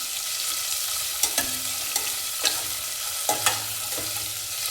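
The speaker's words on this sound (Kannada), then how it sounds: "ಈ ಸ್ಪೈಸಸ್ಸು ಈರುಳ್ಳಿ ಎಣ್ಣೆಯಲ್ಲಿ ಚೆನ್ನಾಗಿ ಸ್ವಲ್ಪ ಫ್ರೈ ಆಗಲಿ." Onion and whole spices fry in hot oil for vegetable pulao: a constant close sizzle with a few sharp scrapes of a spatula stirring the pan, and no voices.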